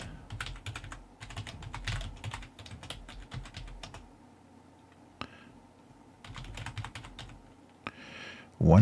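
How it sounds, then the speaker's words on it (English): Touch typing on a computer keyboard during a livestream, heard as bursts of rapid close clicks that pause in the middle and then resume, with a brief louder noise at the end. "My touch typing is not working out."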